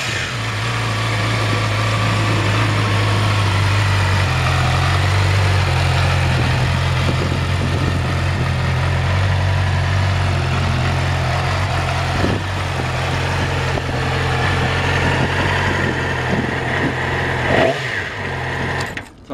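A 2011 Yamaha YZF-R6 sport motorcycle with fuel injection and 968 miles settles into a steady, close, loud idle that holds unbroken for most of the clip before cutting off abruptly near the end.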